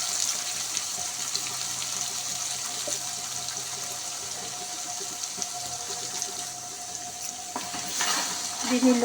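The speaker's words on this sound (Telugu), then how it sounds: "లో టు మీడియం ఫ్లేమ్ వరకు కొద్దిగా ఫ్రై చేస్తూ ఉండాలి" Ground masala paste with curry leaves fries over a low-to-medium flame, producing a constant close sizzle with occasional stirring scrapes, while a voice speaks briefly.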